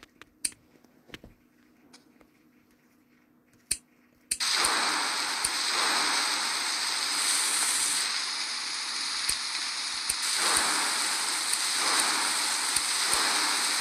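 Steady rain pours from rain clouds in the Merge Dragons mobile game, starting abruptly after a few quiet seconds of scattered clicks and continuing as a dense, even hiss to the end.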